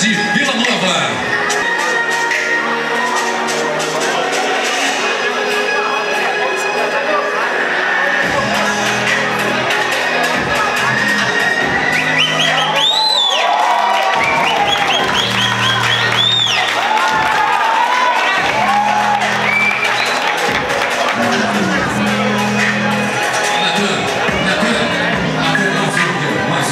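Arena crowd at a Headshot Fight event cheering and applauding a fighter introduced from Vila Nova, a loud steady roar of voices with whoops and shouts running throughout, an announcer's voice carrying over it.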